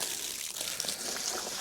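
Water gushes and splashes steadily from a cut hose, a close, noisy rushing flow with no voices.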